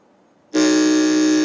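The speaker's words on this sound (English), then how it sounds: "I want us to quickly test our buzzers again." Electronic quiz show buzzer sounding during a school quiz competition test, a single loud sustained harmonic tone that starts abruptly after a brief quiet moment and holds steady to the end.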